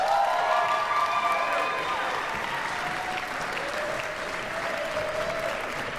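A graduation convocation crowd at a music school applauds its Masters in Music graduates, sustained dense clapping with some cheering, loud at first and easing slightly, with voices murmuring underneath.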